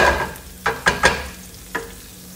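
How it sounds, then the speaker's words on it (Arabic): Garlic, ginger and chili fry in hot sesame-scented oil, loud crackling sizzle up close, broken by three or four sharp scraping stirs of a utensil against the pan, with no voices. "نحمس الثوم مع الزنجبيل"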